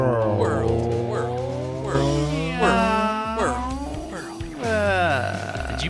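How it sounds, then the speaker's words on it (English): A cat meows several times in a row, fairly close and clear, while someone talks over a low steady background hum. "I think I heard a meow. I think that was a meow."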